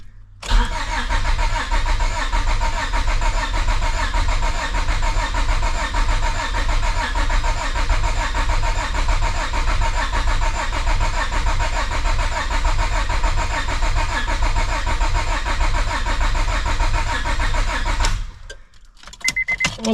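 A project car's engine cranks over steadily on the starter for about eighteen seconds, loud and close, without catching, then the cranking cuts off abruptly.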